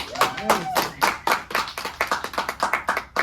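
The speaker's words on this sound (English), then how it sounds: "Everyone give a round of applause to Brian Wynn." Clapping for magician Brian Wynn at a magic theater show comes as a close, uneven burst of individual hand claps from a small audience, rhythmic and fairly loud, with a brief voice near the start.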